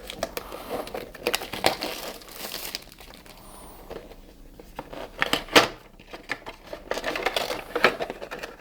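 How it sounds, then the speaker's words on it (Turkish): A plastic bag holding a newly bought piranha webcam is pulled open, giving close, uneven bursts of crinkling and rustling over several seconds, with quieter handling gaps between the louder crackles. "Evet poşeti birazcık zor açtık."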